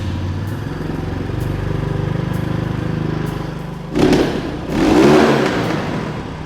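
A Walmart 250cc dirt bike engine idles with a steady close mechanical putter, then revs up twice in loud throaty bursts near the end.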